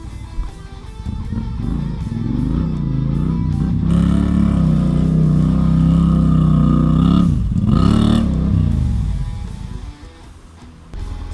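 Motorcycles push through a river crossing on an off-road challenge ride, with engines droning and revving steadily over about ten seconds, then easing off near the end.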